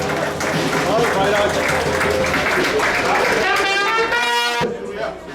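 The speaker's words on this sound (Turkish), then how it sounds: "Bir alkış alalım." Crowd applause fills an outdoor maritime and cabotage day celebration in Ayvalık, loud and continuous, with a voice heard near the end as the clapping thins out.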